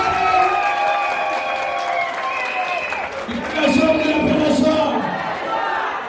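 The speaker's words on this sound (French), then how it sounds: "je vous demande d'applaudir" Guests at a civil wedding ceremony clap and cheer in a crowded room, with voices and a shout rising over the applause midway as the clapping continues.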